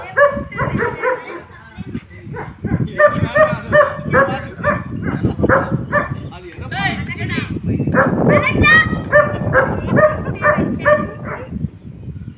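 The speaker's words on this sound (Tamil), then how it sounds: "உங்களை விட நாயே நல்லா கலைக்குதுடா" Dog barks and yips repeatedly during a Kaanum Pongal celebration at home, the barking close and loud and mixed with people talking throughout.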